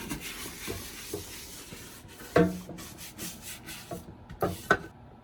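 A dish brush scrubs sauce off a wooden cutting board, giving soft, uneven bristle rubbing with a few sharper scratchy strokes and light knocks, close up and fairly quiet, with no talking.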